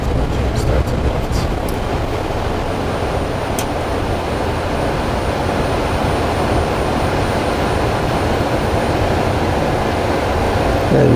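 The left jet engine of a Boeing 787-9 spools up on the ground during a pre-flight engine start, a loud, steady, broadband roar with a faint high whine, continuous throughout.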